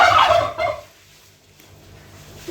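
A bronze turkey lets out a loud, close gobble in the first second, followed by a quieter trailing call and then near silence.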